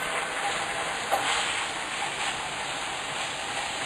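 Onions sizzling in oil in a pan, cooked as the base for salmon linguine: a steady, even hiss of frying that stays constant throughout, fairly soft and close, with no talk over it.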